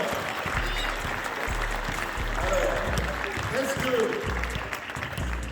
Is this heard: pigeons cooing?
no